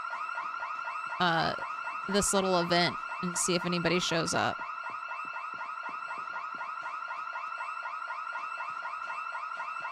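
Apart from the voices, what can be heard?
house alarm going off in video game Project Zomboid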